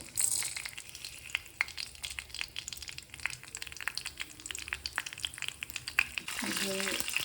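Cinnamon, cloves, cardamom and pepper crackle and sizzle in hot oil close by, tempering for a mutton head curry, with sharp pops and stirring scrapes, the frying intensifying near the end.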